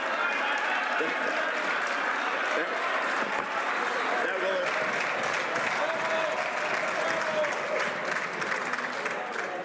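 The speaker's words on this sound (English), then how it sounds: "I know members want to applaud the Honourable Parliamentary Secretary" Members applauding in the House of Commons during Question Period, a steady, full wash of clapping that carries on for several seconds with a murmur of voices mixed in.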